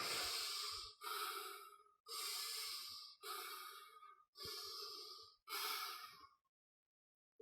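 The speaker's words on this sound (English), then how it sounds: "you are feeling that you are breathing through the spine" Slow, deliberate breaths during a spine-focused breathing exercise: six long airy inhalations and exhalations in a steady rhythm, close and clear with brief pauses between, then silence.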